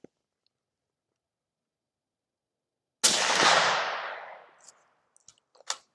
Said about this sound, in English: Man, this is a fun rifle to shoot.